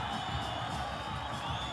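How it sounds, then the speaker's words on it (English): Football crowd noise at a Copa Centroamericana match between Xelajú and FAS, a steady, dense roar of fans cheering and whooping throughout, sustained and fairly loud. "and the fans cheer in encouragement."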